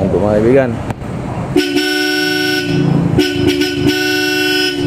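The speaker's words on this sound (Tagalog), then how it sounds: "i-test natin yung horn ni sir" Bosch Europa horns fitted to a Honda Civic blare in two loud, sustained blasts at close range, following brief talk at the start.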